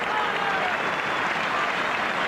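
Football crowd applauding in a packed stadium during an Ireland versus Brazil friendly in 1987, a dense, even roar of clapping sustained throughout the short moment.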